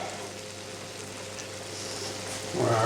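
Foie gras sizzling steadily in a hot pan, a constant crackling hiss that swells louder near the end, with no one talking.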